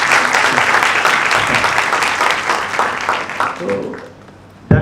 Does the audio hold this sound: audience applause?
yes